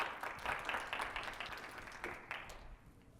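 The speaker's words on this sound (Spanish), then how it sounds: "Un aplauso para Ariel." Scattered audience clapping at a Spanish-language talk greets the speaker Ariel, moderately distant and thinning out toward the end as the hands stop.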